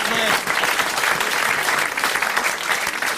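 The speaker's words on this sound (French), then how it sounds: "Vous applaudissez Madame Murby, Madame Murbès." Studio audience applauding Madame Murbès on a French radio comedy panel show, a sustained burst of clapping with a voice briefly audible over it at the start.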